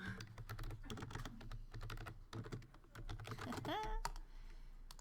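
Steady typing on a computer keyboard nearby, quick clicking keystrokes in short bursts, with a brief higher electronic tone near the end and no speech.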